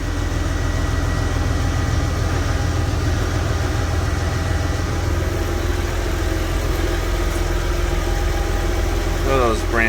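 A vehicle's engine idles steadily and loud close by after starting, a low rumbling drone that holds for the whole stretch, with a brief squeal near the end.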